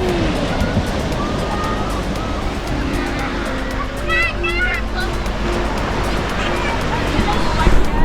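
Cold ocean waves wash steadily onto a beach in Cape Town, a continuous broad rush with a murmur of distant voices and some traffic hum underneath.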